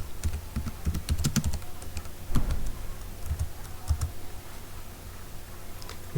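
Typing on a computer keyboard while entering a domain name into a website search, with irregular bursts of close key clicks and short pauses between runs of keystrokes.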